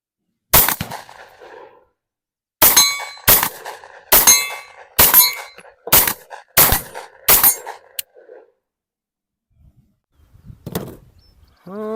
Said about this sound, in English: So I got 2 magazines loaded up with the Winchester white box 115 grain. Let's keep shooting.